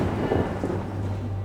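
A thunderstorm outside a house, a low rumbling roll of thunder with steady rain beneath it, continuous and moderately loud, with no voices.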